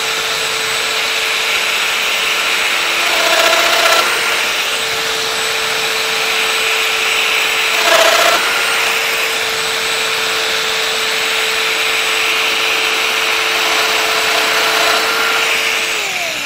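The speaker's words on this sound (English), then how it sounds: "I'm going in 15 millimeters deep with a 5 millimeter cutter." A power tool on a lathe cart project cuts 15 mm deep with a 5 mm cutter, a steady whining drone running continuously throughout, with a couple of brief louder bursts along the way.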